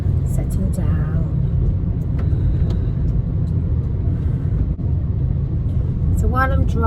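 A car on the move, heard from inside the cabin as a steady, dense low rumble of road and engine noise throughout, with a voice speaking briefly over it.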